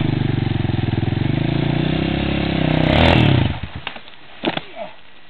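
A motorcycle engine idles on a trail with a steady rumbling putter, revs up briefly, then cuts off, leaving a few faint knocks and clicks.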